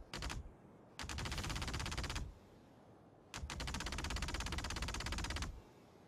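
Ship-mounted guns firing in Star Citizen during a Valkyrie live-fire test, three loud rapid-fire bursts of automatic gunfire, the last two long and sustained, separated by short quiet gaps with no talking.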